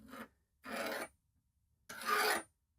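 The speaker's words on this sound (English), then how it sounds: "the file's skating over the metal" Steel file rasps over hardened tablesaw-blade steel in three separate strokes, the last one longest, each a dry, close scraping sound with quiet gaps between.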